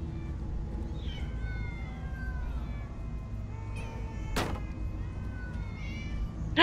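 Several cartoonish cats meow repeatedly inside a Minecraft Story Mode scene, their rising and falling cries overlapping at moderate distance above a steady low game ambience, with a sharp thud near the end.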